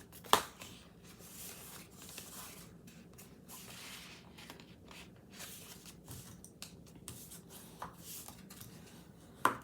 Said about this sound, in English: take your bone folder and just fold along the score line